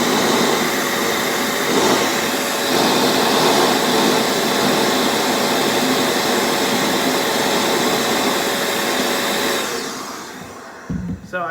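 An air duster blowing on its low setting gives a loud, steady, close airy whoosh that runs unbroken for most of the clip, then drops away near the end.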